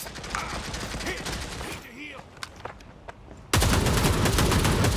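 Gunfire from the shooter game World War Heroes rattles in dense, rapid bursts. The shots thin out briefly in the middle, then return as a loud, continuous barrage.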